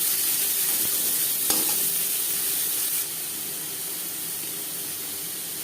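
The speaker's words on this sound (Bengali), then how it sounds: "মশলা একটু ভেজে নেওয়ার পর পেঁয়াজের সাথে মিক্স করে দিলাম।" Whole spices such as cardamom, cloves and nutmeg sizzle and hiss in a pan as onions are stirred in for homemade butter chicken, a continuous frying crackle that drops slightly in level partway through.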